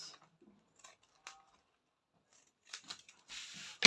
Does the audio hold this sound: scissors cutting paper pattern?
yes